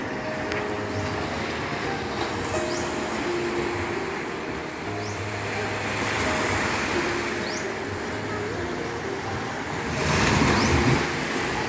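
Steady broadband wash of surf rolling onto a shore, with a low rumble underneath and a swell in loudness near the end.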